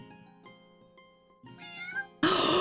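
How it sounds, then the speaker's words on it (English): A cat meows loudly several times: tonal, drawn-out calls that swell in the middle and end in a harsh, louder outburst, with no one talking. "You hear a loud meow"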